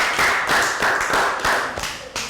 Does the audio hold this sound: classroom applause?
yes